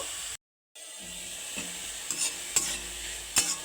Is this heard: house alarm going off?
no